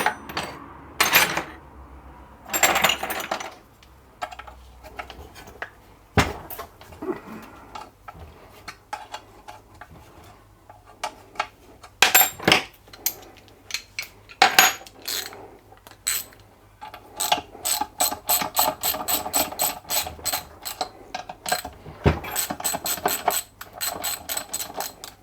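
Hand tools work on a J.A.P. water pump's big impeller housing, with scattered metallic clicks, ratchet-like ticking and scraping in irregular bursts, close and quiet between sharper knocks, ending in a rapid run of clicks.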